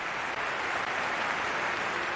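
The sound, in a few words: football players applauding each other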